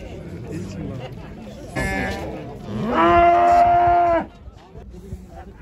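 A cow at a livestock market gives one long, loud, close moo after a shorter lowing call. Crowd chatter and voices run faintly underneath.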